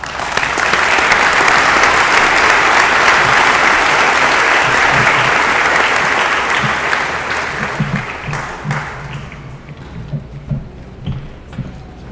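An audience at a high school graduation ceremony claps loudly and steadily, then the applause thins out into scattered claps before fading away.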